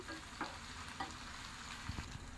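Masala spices and green chillies frying in a pan for a prawn curry while being stirred, a quiet continuous sizzle with a few soft spoon scrapes.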